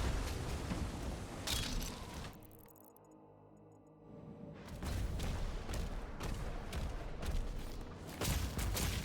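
An artillery cannon fires in the video game DOOM: The Dark Ages, a dense, loud roar of booms that drops away briefly in the middle before the heavy blasts and rumble return.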